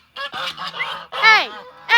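Geese honk loudly in a rapid series of harsh, nasal calls, close by, with overlapping voices and no talking.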